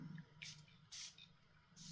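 A perfume atomizer sprays three short, faint hissing bursts in a quiet room, spaced apart with soft pauses between them.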